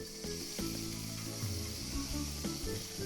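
Short ribs browning in a hot pan give a steady, close sizzle with a few soft knocks as the meat shifts, no voices over it.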